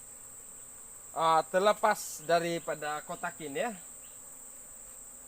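Honey bees buzz steadily around an opened hive during a honey harvest, a thin continuous drone running throughout while someone speaks over it in the foreground.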